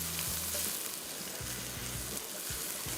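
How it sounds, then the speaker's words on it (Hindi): Chopped onion and garlic fry in a pan as the base of a cheese sauce, a dense continuous sizzle with soft scraping beneath it. "इसको मिक्स किया, थोड़ा सा कोई 30 सेकंड और मैं फ्राई करूँगा"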